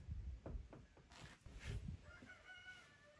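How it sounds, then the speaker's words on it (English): Chickens cluck in short bursts nearby, with a rooster's crow rising partway through and a few higher bird calls near the end. "let the other chickens out of the pen"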